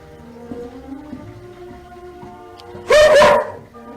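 A single short burst of dog barking near the end, loud and close, over a low background hum.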